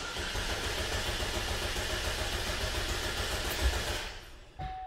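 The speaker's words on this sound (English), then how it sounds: "So I'm putting it in clear flood mode, foot to the floor on the gas pedal, and cranking it." A 2012 Chevrolet Equinox engine with a misfire cranking in clear flood mode with the gas pedal floored, a steady rhythmic churning drone that cuts off near the end, followed by a brief tone.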